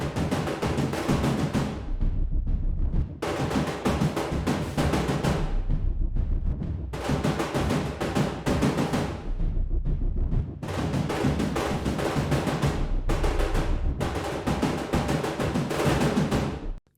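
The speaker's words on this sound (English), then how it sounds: "There is a piece of percussion here, which has been made with our Ashe sample library and is in first order ambisonics." Percussion from the Ashe sample library rendered in first order ambisonics, with loud, dense booming hits in repeated bursts separated by brief pauses over about seventeen seconds, with no talking.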